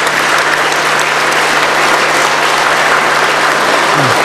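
Sustained applause from a large audience at an official state event, dense and steady throughout with no pauses.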